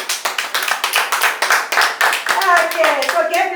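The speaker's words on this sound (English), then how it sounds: "let's clap for them" Students and audience at an international school clapping in a quick, rhythmic series of sharp hand claps, close and loud, with children's voices and talk rising over the final beats.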